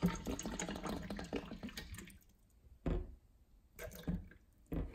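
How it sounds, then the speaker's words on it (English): Water poured into a small cup for a pH and TDS test, a gurgling splashing stream at first, then tapering into brief separate pours and splashes with gaps of quiet. "Let's pour some water in."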